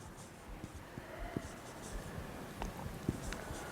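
Pen or marker writing out a chemistry formula for an acid concentration, a steady faint scratching with a few sharper taps, close and continuous, with no talking.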